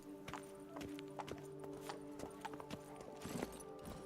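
The horse Roach walking in The Witcher 3, a steady clip-clop of hooves in an even gait, moderately close, over a faint sustained tonal background hum.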